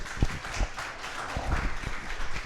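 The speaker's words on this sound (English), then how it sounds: "So everybody, please give Ben a round of applause." Small audience applauding speaker Ben at an evening finance presentation, a moderate patter of scattered claps with a few louder close hand claps, fairly quiet and brief.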